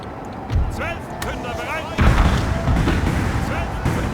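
Canister shot artillery fire from cannons in the Napoleon: Total War battle game, with a couple of booming volleys, one near the start and a heavier one midway, under and between voices talking.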